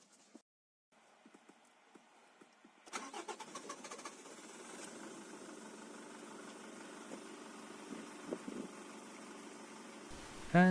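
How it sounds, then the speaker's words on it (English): A Nissan Almera engine, just refilled with fresh oil, cranks briefly and catches, then settles into a steady, even idle after a few quiet clicks and handling noises. "start the engine so the oil can fill the engine and the oil filter"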